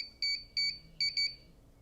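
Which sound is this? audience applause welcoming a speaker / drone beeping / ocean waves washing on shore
drone beeping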